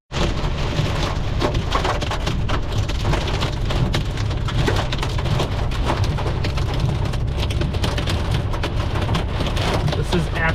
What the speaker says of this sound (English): It sounds like hail or something.